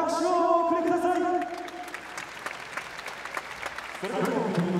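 Applause from the crowd at a K-1 kickboxing featherweight title event in Osaka, loud and dense at first with a voice over it, then thinning to scattered clapping before rising again near the end.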